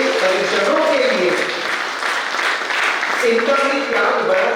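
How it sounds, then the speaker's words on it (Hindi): An audience at a youth gathering and Rakshabandhan honour celebration applauds loudly for family members. Sustained, dense clapping runs throughout, mixed with voices calling out. "एक बार जोरदार तालियां इन परिजनों के लिए।"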